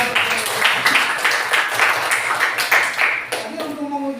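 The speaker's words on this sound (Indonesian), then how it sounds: "Kita beri tepuk tangan dulu untuk kelompok yang sudah." Classroom applause for a student group that has just finished, a steady wash of many hands clapping close by for about four seconds and tapering at the end.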